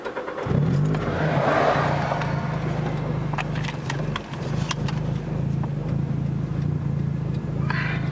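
Car engine idling steadily while map 3 is being data-logged on an Osiris Uprev/Cipher tune, a continuous low hum with a few faint clicks and rattles over it.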